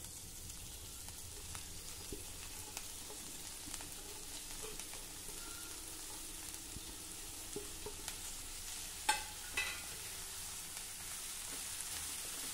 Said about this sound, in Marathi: मध्यम आचेवर हा पालक देखील आपण छान परतून घेऊ.